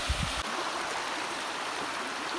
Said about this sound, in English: A lot of water running out of here